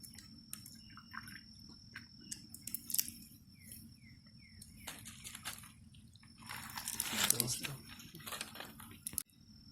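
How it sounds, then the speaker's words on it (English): Shells are cracked and peeled off the tails of boiled crawfish with close, crisp crunching and snapping in irregular bursts, one longer crackling stretch in the middle, over a quiet background. "Peel the shell off of the tail."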